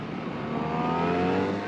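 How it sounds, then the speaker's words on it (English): A BMW R1300 RS motorcycle engine revs up with a rising pitch, close and loud, as the combustion roar builds smoothly. "when you accelerate, luckily you can still hear that we're dealing with a combustion engine."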